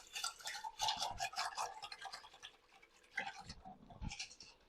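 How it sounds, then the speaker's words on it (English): A whisk beats lumps of bouillon paste into water in a bowl, a rapid scratchy clatter of wire against the dish, close and fairly quiet, with a brief pause before the brisk strokes resume. "And all I'm going to do is just quickly whisk that together."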